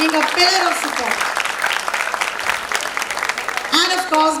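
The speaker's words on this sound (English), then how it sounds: "Big round of applause for Mr. Hsnc Gokla." Applause from a film festival audience rises under a speaker's voice, which keeps talking over the clapping at the start and end.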